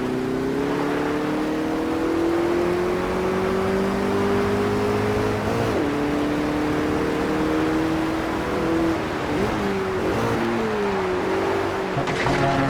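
A race car in the Automobilista 2 racing game brakes on a downhill section, its steady engine note dropping and shifting through gears with brief blips, heard close and alone without talk.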